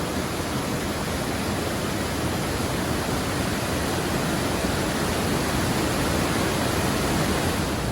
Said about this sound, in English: At every corner, there's more waterfalls all the way up the side of that mountain.